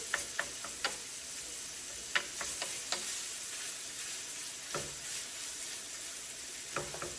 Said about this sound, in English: as it cooks and you move it around, you just kind of break it up a little bit